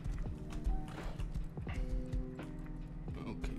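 A horse gallops in the video game Rust, heard as rapid, close clip-clop hoofbeats in an uneven rhythm, with a short whinny-like tone, while a player talks over them.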